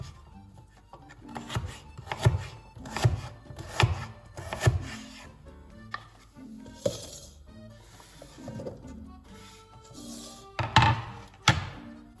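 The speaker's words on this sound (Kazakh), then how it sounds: "Ендігі кезекте алдын ала жуып тазаланған сәбізімізді де дәл осылай төрт бұрышты етіп турап, оны да блендердің ыдысына салатын боламыз" A knife chops washed carrots into cubes for a beet and apple smoothie, giving a series of close, crisp thunks on a board in uneven bursts, with short pauses between runs of cuts.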